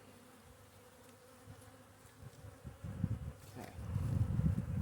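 Honeybees buzz during a March beehive inspection, a steady drone that swells louder toward the end as the insects come closer, with one brief spoken word near the start.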